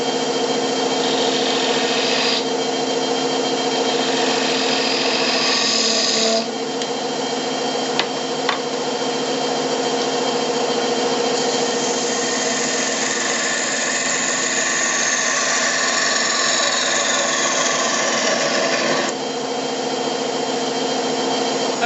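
Wood lathe spinning steadily with a tool rounding over the bottom of a turned toothpick holder, a continuous loud motor hum and cutting whir close by, no talk.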